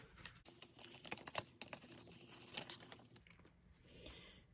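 Dollar Tree glitter vinyl ripped roughly off its backing, a quick series of sharp crinkling tears and crackles, then fading to quieter rustling.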